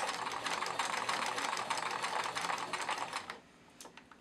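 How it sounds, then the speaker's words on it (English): A sewing machine runs a stretch stitch through natural fleece, a fast, even mechanical patter held steady for about three seconds before stopping, followed by a few faint clicks. "So I'll turn back to my stretch stitch, and I'm just going to go all the way around and then back stitch at the end."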